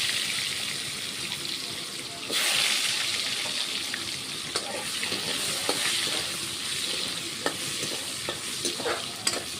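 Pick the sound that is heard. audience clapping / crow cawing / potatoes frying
potatoes frying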